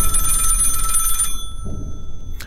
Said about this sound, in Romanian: One of those rotary phones I remember seeing at my grandma's house rings loudly from the bedside